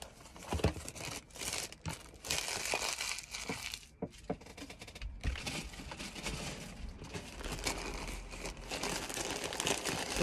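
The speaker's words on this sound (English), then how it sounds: "So all I'm gonna do is just take my stuff out of the SHEIN bag." Items are pulled out of a SHEIN plastic shopping bag, giving loud, close crinkling and rustling with tearing bursts and brief pauses, alone with no talk.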